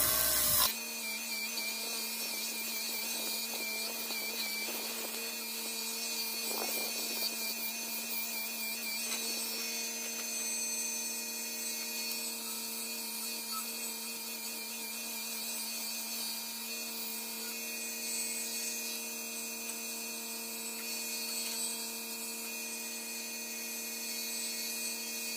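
A wood lathe spins a cast resin label blank while the tool cuts it, giving a steady, continuous whine and rubbing hiss that stays close and even throughout, with no one talking.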